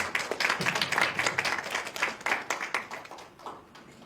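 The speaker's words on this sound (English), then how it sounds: "Everyone, please give them a big round of applause" Applause from an audience at an alumni gathering and information session, many hands clapping steadily and fairly close, thinning out toward the end.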